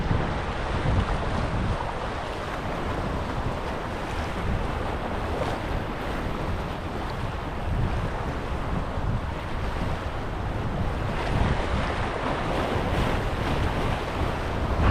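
High-tide sea waves wash against the shore beside an old castle where people fish, a continuous broad surf rush mixed with wind buffeting the microphone, with no voices.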